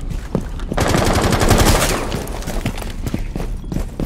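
Rapid gunfire in the tactical shooter Rainbow Six Siege during a competitive college esports match, a loud close burst of quick shots rattling in a steady rhythm, then sparser scattered shots trailing off.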